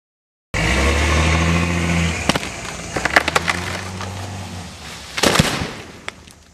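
A logging truck engine drones loudly and steadily, then drops away as the driver eases off the gas before coming back on, with sharp wooden cracks and snaps from a big pine top breaking scattered through the later part.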